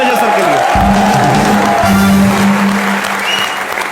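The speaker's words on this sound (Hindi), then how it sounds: "एक बार जोरदार तालियां रजा सर के लिए" Crowd applauding and cheering loudly, with voices and a sustained tone heard over the clapping.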